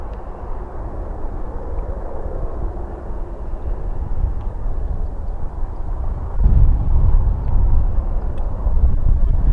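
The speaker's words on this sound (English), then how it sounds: "the sound of the helicopters are getting louder" Helicopters flying overhead near Odiham, a steady broad low rumble that swells noticeably louder partway through, as if the aircraft are drawing nearer, with no talking.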